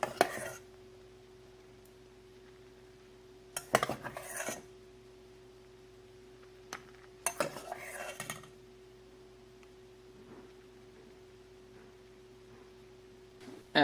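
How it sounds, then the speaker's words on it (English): A spoon scoops milk froth onto a cold brew latte in short soft scraping bursts against the container, a few quiet clustered strokes separated by near-silent pauses, close by. "grab your spoon and spoon some of this froth"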